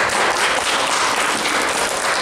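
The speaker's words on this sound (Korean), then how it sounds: "박수 한번" An office audience at a company staff speech session claps together in a loud, dense burst of applause that holds steady for the whole stretch, close and full with no voices over it.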